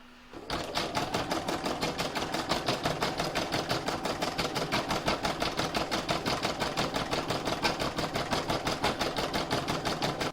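An embroidery machine stitches out a free-standing lace design in rapid, even mechanical clatter, each needle stroke a close, distinct tick in a steady rhythm that runs continuously and loudly, with no voices.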